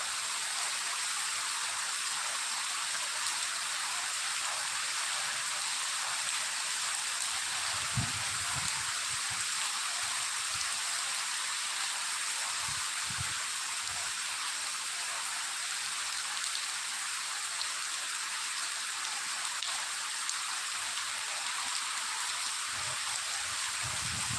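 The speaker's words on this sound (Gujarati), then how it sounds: "એકદમ ફાસ્ટ વરસાદ ચાલુ થઈ ગયો છે" Heavy rain pours down steadily in a dense, loud hiss, with a few low thumps underneath and no voices.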